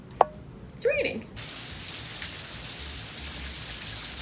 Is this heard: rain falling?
yes